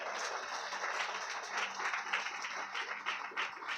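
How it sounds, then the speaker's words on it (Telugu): A church congregation claps during a pastor's sermon, a faint, steady patter of many hands rising and dipping over a few seconds. "గట్టిగా చప్పట్లు కొట్టు."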